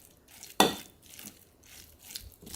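A spoon knocks once sharply against a bowl of minced shrimp batter, then soft, wet stirring scrapes follow in a slow rhythm, close by and fairly quiet.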